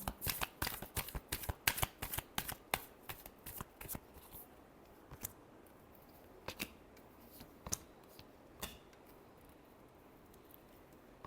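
Tarot cards being shuffled up close, a rapid burst of crisp riffling snaps over the first four seconds, then a few sparse, separate card flicks against a quiet background.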